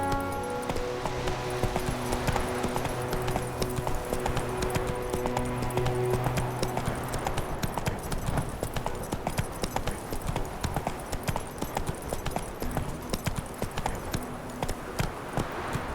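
Horse hooves clip-clop at a quick, steady gallop in The Witcher 3: Wild Hunt, loud and continuous across the whole stretch, with faint background music underneath.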